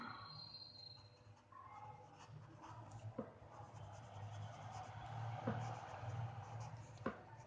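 Marker or chalk strokes on a board during a physics lesson, a run of soft scratchy scribbling with a few sharp taps, faint against a quiet room hum.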